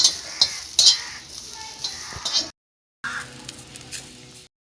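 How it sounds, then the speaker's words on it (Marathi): Onions frying in oil in a pan on a wood-fired stove, with soft sizzling and stirring scrapes in short bursts, close by and fairly quiet. "तेल टाकून घेते आता थोडं आणि चांगलं परतून घेते कांद्याला."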